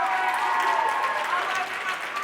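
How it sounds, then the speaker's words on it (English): Audience applause at a TEDxYouth event, a short burst of steady clapping from a crowd, dense and sustained, with voices mixed in. "so a big round of applause to them"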